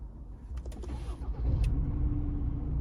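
A 2021 Ford Ranger Wildtrak diesel engine is started with the push button: a few clicks and a brief cranking, then the engine catches and settles into a steady low idle rumble, heard close by.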